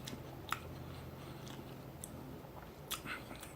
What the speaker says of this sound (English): you get the crunch of that corn